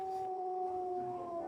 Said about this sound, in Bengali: শুধু শিয়ালের ডাকে শুনতে পাচ্ছি।